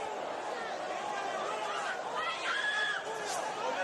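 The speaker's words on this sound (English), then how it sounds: "Crowd getting excited." An arena crowd at a professional boxing match buzzes with excited chatter and rising murmurs, a dense hubbub under a commentator's voice.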